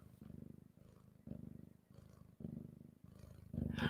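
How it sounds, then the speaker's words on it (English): Cat purring close up, a soft rhythmic rumble pulsing in repeated breaths about once per second, quiet and alone. "Beautiful purrs."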